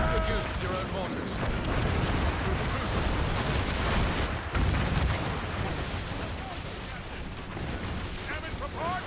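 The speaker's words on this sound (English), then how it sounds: "Good use of your own mortars." Mortars fire during a naval battle in Assassin's Creed Rogue, a dense, continuous roar of booming blasts and rumbling explosions throughout, with shouted voices mixed in.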